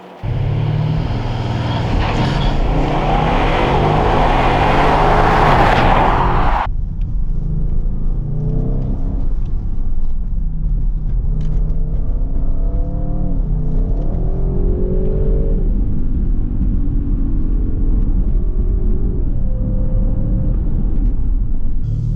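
An Audi RS6 engine drones steadily from inside the cabin, with road rumble and occasional gear changes and revs over a long drive.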